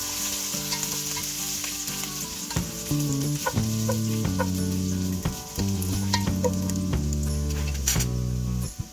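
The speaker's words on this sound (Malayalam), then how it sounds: "എടുത്ത് വച്ചിരിക്കുന്ന ഇഞ്ചി ഒന്ന് ചതച്ചതിനകത്തോട്ടിടാം. അതിൻ്റെ പച്ചമണം മാറുന്നവരെ ഒന്ന് സോട്ട് ചെയ്യാം." Crushed ginger sautéing in a pan for a Kerala-style chicken stew gives a continuous close sizzle with occasional stirring clicks, heard over steady background music.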